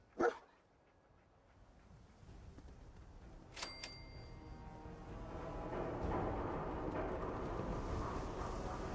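In the video game Fallout 4, a dog companion gives a single sharp bark at the start and another a few seconds later, close by, before a rising ambient rumble fills the rest.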